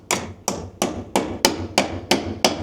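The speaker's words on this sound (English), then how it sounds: "we're gonna hammer this one in" Eight sharp hammer blows land at a steady, even rhythm, loud and close, each with a hollow knock like striking a wooden box, while installing flood light wiring.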